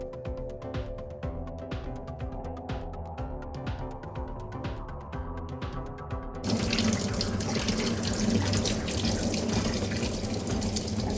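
Tap water runs steadily into a sink, a continuous splashing rush that grows louder and fuller partway through as drumstick leaves are rinsed beneath the stream.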